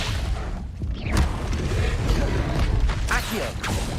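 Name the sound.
Accio summoning spell effect in video game Hogwarts Legacy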